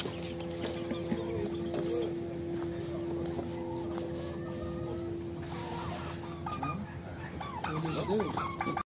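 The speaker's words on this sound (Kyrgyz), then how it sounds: "Короздор." Roosters and hens at Osh Bazaar, a poultry market in Bishkek, cluck and call over a steady low hum and background market chatter, with a few sharper cries near the end.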